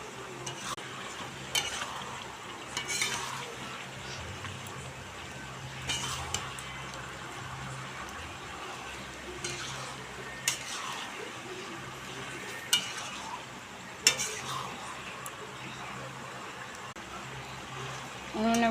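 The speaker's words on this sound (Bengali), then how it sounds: "উনুনে বসে মাংস রান্না হচ্ছে" Meat curry cooking in a pot on a stove, with a steady low sizzle and repeated scraping stirs and occasional clinks of a spoon against the pan, heard up close with faint voices in the background.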